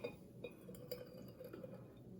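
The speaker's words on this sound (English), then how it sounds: "I can pour it back into here." Liquid being poured from a glass vessel back into a can gives a faint, continuous trickling gurgle with small clinks and drips, quiet and close throughout.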